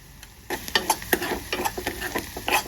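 Onions frying in a pan with a pinch of ginger garlic paste, a run of close sizzling crackles and stirring clicks that starts abruptly after a quiet half second, with no voices.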